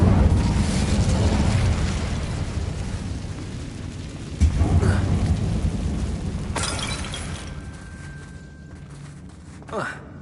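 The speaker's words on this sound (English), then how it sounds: "Incendio!" In Hogwarts Legacy, an Incendio fire spell is cast inside a tomb-like chamber. A sharp whoosh bursts out midway through a steady, roaring rumble, and a voice can be heard over the noise.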